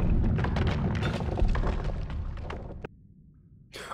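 A burst of explosions in the video game Noita gives a dense series of booming, crackling blasts that fade away, followed by silence and then a short sharp burst at the end.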